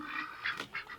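Ducks in a laying box quack in a brief burst of nasal calls, close by and fairly loud, with no talk over them.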